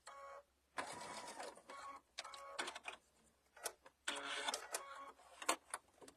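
A sewing machine stitches a fabric mug bag in several short whirring runs with pauses between them, quiet and close, with no talk.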